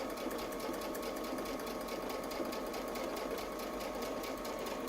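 A quilting sewing machine stitches a feathered leaf design with a steady, rapid needle chatter, close up and continuous with no pauses and no talking.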